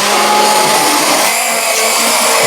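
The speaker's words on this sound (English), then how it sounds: "So all of my soups which I blend down are using a hand blender." A hand blender whirs through creamy broccoli and Stilton soup in a pot, a loud, continuous motor drone that holds steady for the whole stretch.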